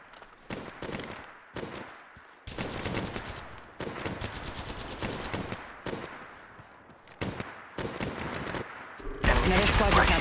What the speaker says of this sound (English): Taking fire. Opening fire.